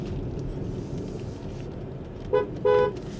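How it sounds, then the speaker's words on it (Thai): Horn of a Geely EX5 electric car on a steep slope, two short bright toots, the second slightly longer, over a steady low in-cabin hum. "เสียงแตรดังดีเลยนะครับ"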